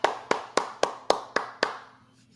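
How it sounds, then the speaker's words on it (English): Seven sharp hand claps in a steady, evenly spaced rhythm, close and fairly loud, each with a short decaying tail, heard while watching an Inter Miami vs Vancouver Whitecaps soccer match. "I just clapped."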